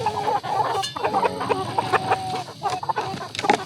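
Chickens and roosters on a farm cluck busily close by, a run of short, uneven calls overlapping one another.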